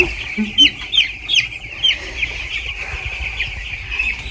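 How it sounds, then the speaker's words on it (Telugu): Chicks chirp in a steady high-pitched chorus at a poultry farm, with a few sharper peeps standing out near the start; no one speaks. "అది ఆ చివరి వరకు కోడి పిల్లలు ఉన్నాయి కదా"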